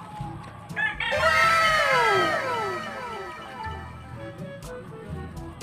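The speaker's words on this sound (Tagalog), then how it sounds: "Ito po yung claret na broadcock namin." A claret broodcock rooster crows once, close and loud, with a long drawn-out call that fades over about two seconds, followed by softer clucking and faint background farm noise.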